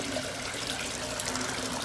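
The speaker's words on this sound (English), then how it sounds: "And this water flow, it just flows maybe a few gallons per hour." Water trickling through a revised koi pond filter planted with absorbing plants, a gentle flow of a few gallons per hour, heard as a steady, close, continuous wash of splashing with no voices.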